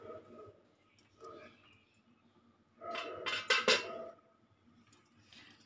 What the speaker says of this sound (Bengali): ঢাকাটা খুলে দেখব।